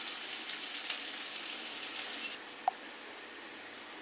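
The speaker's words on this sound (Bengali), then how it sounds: "আমার পেঁয়াজগুলো ভাজা ভাজা হয়ে গেছে।" Onions frying in a pan give a quiet, steady sizzle with fine crackling that continues evenly throughout, with no talking.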